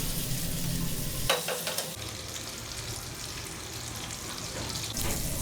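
Meatballs fry in a pan with a soft, steady sizzle under occasional stirring and scraping, faint and continuous with no voices.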